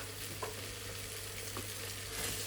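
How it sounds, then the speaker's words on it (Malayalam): Rice and masala being sautéed in a pressure cooker for chicken biryani, a soft, steady sizzle with faint stirring scrapes and a small clatter at the end, heard alone without talk. "ഇനി ഇത് നന്നായിട്ടൊന്ന് നമുക്ക് വഴറ്റിയെടുക്കാം"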